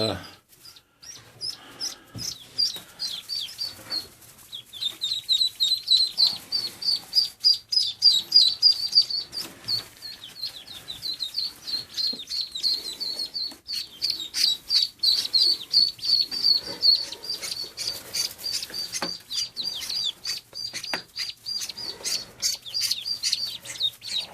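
Ducks or ducklings chirp in a steady, dense stream of high peeps while being put into a pen. The sound is fairly close and continuous, with faint voices and handling noises underneath.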